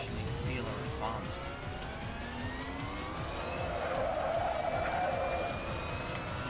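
A Toyota Trueno engine revs at low RPM, with a steady drone and rising tones under tyre noise and a continuous game soundtrack, while someone talks over it.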